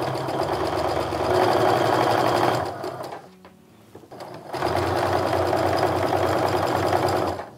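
A sewing machine stitches quilt rows in a close, loud, steady hum of fast needle strokes. The machine runs for about three seconds, stops briefly, then resumes for another three seconds.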